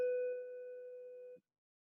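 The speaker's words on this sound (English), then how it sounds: "that's a bell over here at A2 Steam." A single bell strike rings out as a clear, pure tone with a couple of overtones, decaying smoothly for over a second before cutting off, alone in a quiet room.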